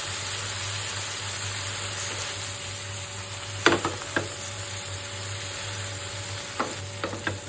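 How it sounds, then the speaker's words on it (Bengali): Fish masala being stirred in mustard oil, with a steady soft sizzle throughout and a few brief scraping clinks of the spoon against the pan. "1 টেবিল চামচ সরিষার তেল দিয়ে দিব। নেড়ে দিব।"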